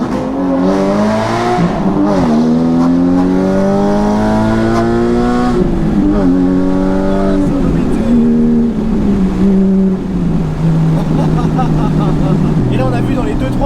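Porsche 981 Cayman GT4 flat-six engine echoing through a short road tunnel, loud and close, revving up and down through gear changes with rising and falling tones.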